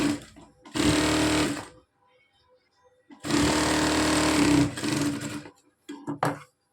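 A sewing machine stitches a blouse sleeve with a 1/4-inch seam in two loud, close runs of rapid mechanical chatter, separated by a short pause and followed by a few brief handling sounds.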